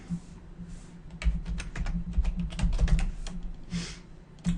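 Login name being typed on a computer keyboard, a close run of quick irregular key clicks with brief pauses, ending with a firmer tap.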